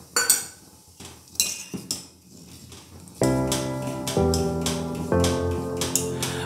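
A spoon stirs urad dal payasam with jaggery syrup in a metal pot, making a few sharp, close clinks and scrapes with pauses between them. Music with a strong beat then starts and covers the rest.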